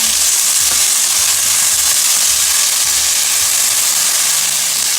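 Chicken with potato, carrots and cauliflower being stirred in a hot pan gives a loud, continuous frying hiss and sizzle close up, with faint occasional scraping underneath and no talking.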